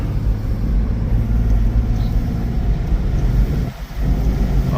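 Deep, steady engine rumble of a Toyota Land Cruiser FZJ80 on 33-inch tires as it accelerates, a loud continuous low drone with wind buffeting and a brief dip near the end.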